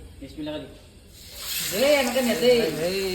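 Raw chicken pieces hitting hot cooking oil at a birthday party meal, a quiet start breaking into a loud, steady sizzle that swells and holds, with voices talking over the frying.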